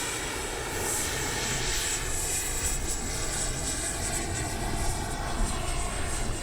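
An Arrows RC F-15 model jet with twin 64mm ducted fans flies overhead, giving a steady, high-pitched whooshing whine that swells slightly as it passes at middle distance.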